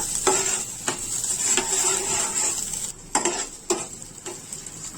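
Chopped garlic and finely sliced onion fry in hot oil with a soft steady sizzle, punctuated by regular clicking taps of a spoon against the pan roughly every half second.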